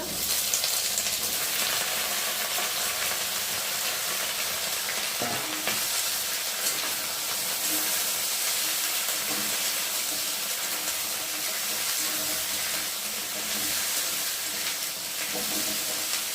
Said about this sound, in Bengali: এখন কেটে রাখা সবজিগুলো আলু বেগুনগুলো দিয়ে ভালো করে ভেজে নেব